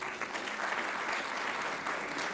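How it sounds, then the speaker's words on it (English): Audience applause at a university convocation ceremony in a large hall, a steady dense wash of clapping from many hands that holds evenly throughout with no voices rising above it. "that deserves a round of applause"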